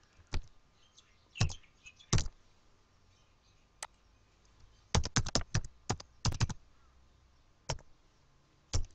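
Keys on a computer keyboard are struck in sparse, crisp clicks, some isolated and some in quick bursts, close by in a quiet room with no talking.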